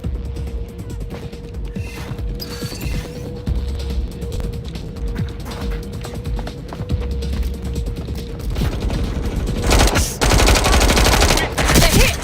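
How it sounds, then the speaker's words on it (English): Rapid automatic gunfire rattles through a Watch Dogs Legion firefight, dense clattering bursts with a steady mechanical hum underneath, loudest and most intense near the end. "They're hit! Taking fire!"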